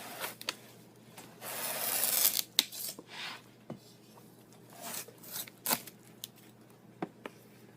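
A chef's knife cuts the end off a watermelon, a close, quiet run of scraping, crunching slices in short bursts with small gaps between them, no voices.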